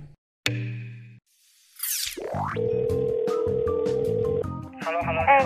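A phone call is placed on a studio call-in show: a short tone burst, a quick rising swoosh, then a long steady tone that gives way to a warbling electronic signal at the end.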